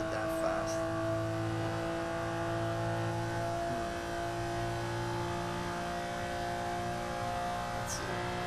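Ferrari LaFerrari supercar engine in a Forza Motorsport track run, a steady sustained drone with layered tonal harmonics and a few brief whooshes, continuous at moderate level throughout with no talk.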